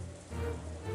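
Steady rain falls outside in the Umineko visual novel, a close, continuous hiss and patter of rain on a surface that lasts under a second, with no voices.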